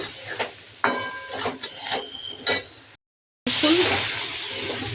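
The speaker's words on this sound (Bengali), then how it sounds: "এবারে নুন মিষ্টি দিয়ে একটু কষিয়ে যেতে হবে অনেকক্ষণ ধরে।" Spice paste with salt and sugar fries in oil in a pan while being stirred, a steady sizzle with scraping strokes under a voice, briefly cutting out before the frying returns louder.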